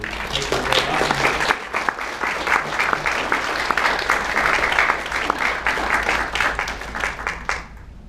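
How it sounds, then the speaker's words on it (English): A crowd applauds steadily for several seconds, dense clapping that holds evenly before tapering off at the end. "So let's give him a round of applause."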